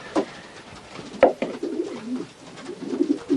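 Racing pigeons coo inside a loft, soft throaty calls repeating close by in short, uneven bursts with no voices.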